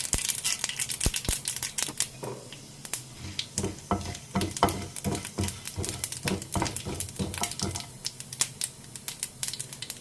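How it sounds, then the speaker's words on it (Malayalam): Mustard seeds in a tablespoon of oil in a pan for a brinjal curry, giving dense, irregular crackling pops and spits that come fast and close, with no talk over them. "കടുക് പൊട്ടാൻ തുടങ്ങുമ്പോൾ ഉഴുന്നിടാം"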